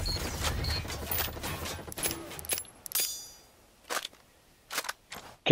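Gunfire from a Zastava MP5 in a shooter game: a brief rattling burst of rapid shots, then several sharp, isolated single shots spaced apart, close and crisp, with quiet gaps between.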